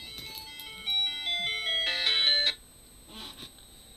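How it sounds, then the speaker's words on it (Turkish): A phone's electronic ringtone plays a short bright melody of chiming tones, fairly quiet and close, fading into faint background noise after a couple of seconds. "Bu sebepten dolayı da telefon çaldı."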